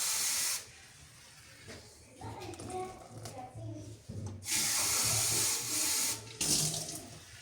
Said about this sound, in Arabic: غنضيف جوج كيسان د الماء